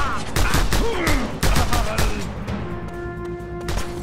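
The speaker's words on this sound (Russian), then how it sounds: "Кто по мне стреляет?" Gunfire in the video game Just Cause 2: rapid cracking shots and booms aimed at the player, several sharp bursts close together, loud over the game's background tones.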